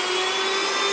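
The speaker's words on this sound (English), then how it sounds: "Grind the wheat berries in this home mill." Wheat berries being ground in a home grain mill produce a loud, steady motorized whine and roar with a constant hum, continuous and without talk.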